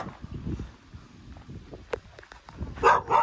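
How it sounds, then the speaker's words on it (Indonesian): A dog barks outdoors along rice paddies, a couple of loud barks near the end after quieter rustling and wind-like noise, with no talk. "ada guguk tuh"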